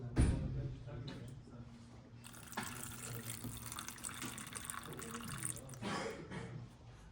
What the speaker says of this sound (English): We can see that water is currently being refilled until the amount of water is above the threshold of 150 grams.